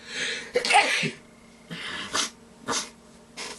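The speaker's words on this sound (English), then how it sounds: "I'm going to sneeze. It's going to happen." A close, loud sneeze bursts out, followed by a few sharp snorting breaths spaced a second or so apart.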